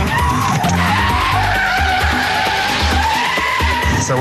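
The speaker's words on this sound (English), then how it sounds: "Handbrake on for too long, spins the car right out." Car tyres skid loudly and continuously through a handbrake turn on a skid pan, with engine roar underneath and no pause in the sliding screech.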